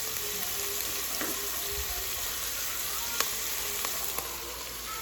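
Meat sizzling and frying in a pan as it is stirred for soup, a steady bright crackle throughout with occasional scrapes and clinks of the utensil, close and continuous with no talking.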